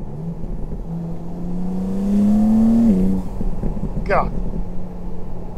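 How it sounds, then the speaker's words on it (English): A BMW M2 revs up with a rising engine tone, turbo spooling and exhaust burbling, loud and close, then a brief sharp whoosh near the end, with someone speaking over part of it. "turbo spools, the exhaust burbles"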